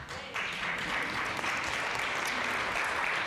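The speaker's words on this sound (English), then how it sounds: "That was a Ringo applause." Audience clapping at a panel on employer-driven networks and the future of work, a steady wash of applause that swells after a brief softer start and holds evenly throughout.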